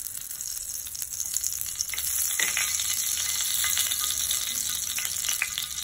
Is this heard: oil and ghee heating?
yes